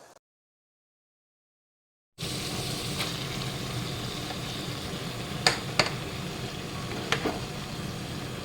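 Rice stirred into a pot for chicken biryani, a brief silence followed by a steady low sizzle with a few sharp spoon scrapes and clinks against the pot, no voices.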